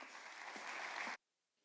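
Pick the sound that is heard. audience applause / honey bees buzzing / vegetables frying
audience applause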